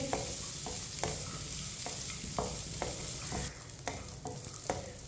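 Semolina roasts in a pan on low heat while a spoon stirs it, a steady dry sizzle broken by repeated scraping strokes of the spoon against the pan, close and quiet, with no one speaking.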